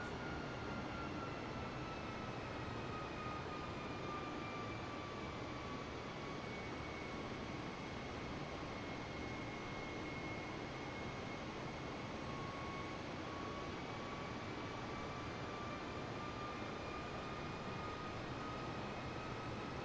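Jet engines of an Airbus A320 in a flight simulator hum steadily as they spool up, a continuous broadband roar with faint rising whine tones held throughout, no voices over it.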